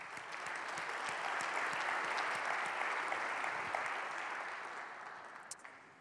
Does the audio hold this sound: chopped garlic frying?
no